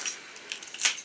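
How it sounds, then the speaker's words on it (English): Keys on a key ring jangling, a few bright metallic clinks in quick succession, close and fairly soft, with the sharpest jingle near the end. "EDC number one, my keys."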